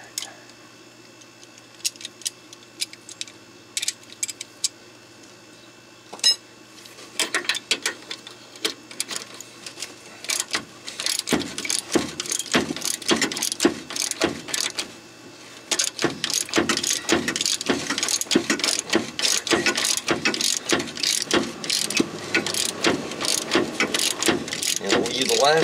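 A socket ratchet wrench clicking rapidly on bolts of the steering gear of a 1997 Crown Victoria Police Interceptor, starting with scattered short bursts, then long dense runs of close, crisp ratcheting strokes.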